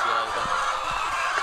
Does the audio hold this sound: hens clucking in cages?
yes